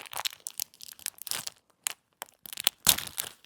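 Crinkly plastic packaging around a Zepbound KwikPen being torn and crumpled in short, irregular bursts close by, with brief pauses between pulls.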